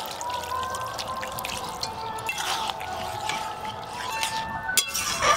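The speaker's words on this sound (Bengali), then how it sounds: "অল্প জল দেব" Water is poured into a pan of thick egg and cauliflower gravy, a soft continuous trickling pour over a faint background, ending with a small splash and knock.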